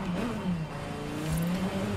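A 2013 Dodge Viper SRT GTS Anniversary Edition V12 engine hums and revs in a low, throbbing tone that rises and dips briefly, close and moderately loud.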